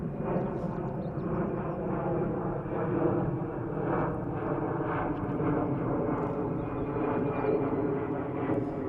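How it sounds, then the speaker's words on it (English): A DJI Mini 3 Pro drone flies outdoors over Barking Riverside, its small rotors making a steady, continuous buzzing whine with layered tonal harmonics and no talk. "Let's land the drone now."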